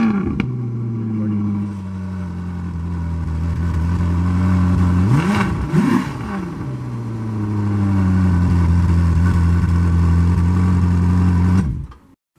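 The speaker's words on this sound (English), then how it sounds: "It makes it have a beautiful exhaust note." A Ferrari California with a four-tip exhaust idles with a steady low engine note, then revs up and drops back once, and settles into a sustained idle before cutting off abruptly at the end.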